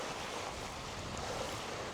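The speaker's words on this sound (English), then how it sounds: "it's really nice sound from the river there" Steady broadband rush of river water flowing, continuous and fairly faint, with no voices.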